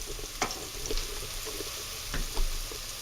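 Onions fry in a pan for a Sicilian-style Italian sauce, giving a quiet, even sizzle with a few scattered clicks and light stirring touches, no voices present.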